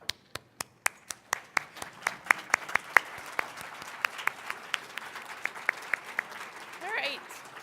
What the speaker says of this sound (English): So on your feet and clap.